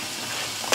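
Paprika escalopes stirred in a hot pan, a steady close sizzle of frying with a sharper scrape near the end, no voices over it.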